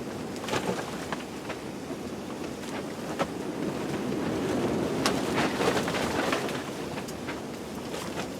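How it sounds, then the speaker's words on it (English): Strong winter wind gusts outdoors in bitter cold, a continuous rushing roar buffeting the microphone with scattered sharp crackles and knocks. "The wind is something awful today"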